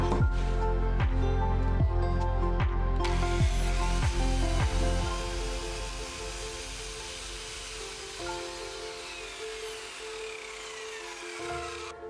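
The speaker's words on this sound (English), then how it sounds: "I cut long MDF 18mm." A circular saw mounted on a homemade DIY slider rig cuts through 18mm MDF, a loud steady whine with rhythmic ticks early on, then dropping to a quieter lower grinding as the cut continues and winds down.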